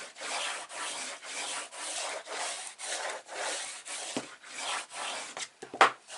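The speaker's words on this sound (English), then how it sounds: "on the outside, just give it a good grease with your bone folder." A bone folder rubs firmly across an album cover in steady back-and-forth strokes, a dry scraping swish repeated about a dozen times, close and alone, ending with a few sharper taps.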